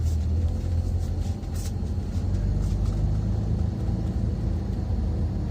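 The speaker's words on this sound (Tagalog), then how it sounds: "Ito ang daming sasakyan." A steady low rumble of road traffic, many cars moving nearby, heard from inside a vehicle with a constant deep engine drone and no talking.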